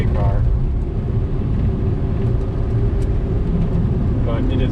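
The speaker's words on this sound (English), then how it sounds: "it gets you a turbo 3-cylinder intercooled engine at" A 1993 Suzuki Alto Works RS-R, a turbo intercooled 660cc three-cylinder all-wheel-drive kei car, hums with a steady loud engine and road drone from inside the cabin while driving, with someone talking over it.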